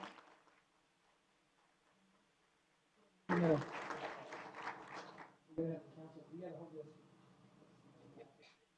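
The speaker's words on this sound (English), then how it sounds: "Let's give Lisa a round of applause" A short burst of audience applause at a city meeting in Tempe, Arizona, honoring a retiree on her recognition day. It rises suddenly after a quiet stretch, lasts about two seconds and gives way to talking.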